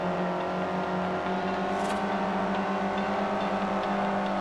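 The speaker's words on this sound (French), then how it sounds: "T'as l'écho dans le tunnel avec le bruit des moteurs." Car engines in the racing game Forza Horizon drone steadily as they echo inside a tunnel, with a sustained, even hum throughout and no voices.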